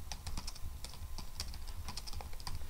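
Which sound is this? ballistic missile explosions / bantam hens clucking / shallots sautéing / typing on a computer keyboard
typing on a computer keyboard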